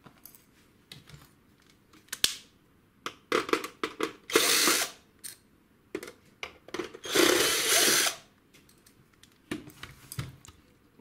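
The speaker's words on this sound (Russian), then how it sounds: "Открутили винтики." Screws being undone on a disassembled Canon PIXMA MG-series inkjet printer with a small power driver, heard as short whirring bursts separated by gaps, plus light clicks and handling of plastic parts, close up and without talk.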